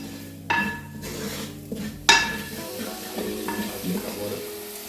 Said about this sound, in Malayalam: ഇറച്ചി മസാല കുറച്ച് കുരുമുളക് പൊടി മഞ്ഞൾപ്പൊടി ഇതെല്ലാം കൂടെ ഒന്നും കൂടി ഇടുവാണേ പച്ചമണം പോകുന്നതോടെ വരെ നമ്മളൊന്ന് ഇന്ന് ഇളക്കി കൊടുത്തോണ്ടിരിക്കും